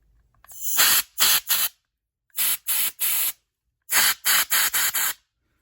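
Short hissing blasts of compressed air blow dust out of a vintage Dundee flip-top petrol lighter, coming in three quick groups of three, three and five bursts with silent gaps between.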